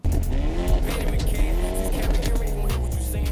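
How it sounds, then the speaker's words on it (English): A car engine revving hard with the microphone placed right against the exhaust, a loud, continuous, distorted roar with rising and falling pitch sweeps that never lets up. "the audio that you hear here when the car is being revved is actually the audio coming from DJI mic"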